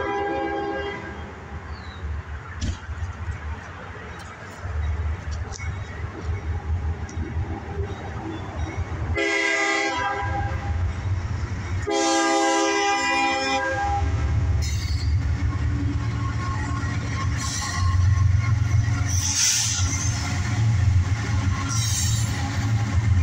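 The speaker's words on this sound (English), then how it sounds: "We got a train coming, folks." A CSX mixed freight train led by CN locomotives passes close by with a deep rumble and the clatter of railcars. Loud horn blasts sound midway, and the roar stays steady throughout.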